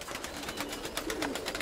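Pigeons coo repeatedly at a pigeon loft, a steady run of throaty coos close by with a faint background hiss.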